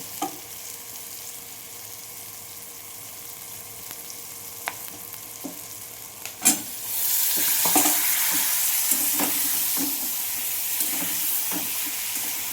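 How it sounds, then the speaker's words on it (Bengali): Boiled jackfruit seeds tipped into a frying pan with turmeric and stirred, quiet sizzling with spoon clinks, then a sharp burst as they hit the oil and a louder, steady frying hiss with repeated stirring knocks. "দেখুন এবার এই কাঁঠাল দানাটা আমি তুলে দিচ্ছি"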